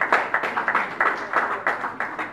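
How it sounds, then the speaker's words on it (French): Audience at a working lunch applauds a congratulated speaker, a modest group clapping in uneven bursts and clustered beats, moderately loud and close, with no voices over it. "Je vous prie d'applaudir pour M. Sami Wechi"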